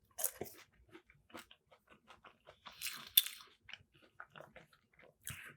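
Someone eating plain fries at close range, with sharp crunching bites and wet chewing in an irregular rhythm, a few louder crunches standing out, and no talking.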